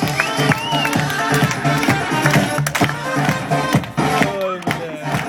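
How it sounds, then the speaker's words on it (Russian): Audience cheering and applause for a couple named Denis and Maria at a Mr. & Mrs. Sunrise contest, loud and steady with music playing and an announcer's voice over it. "Окей, аплодисменты для Дениса и Марии. Аплодисменты!"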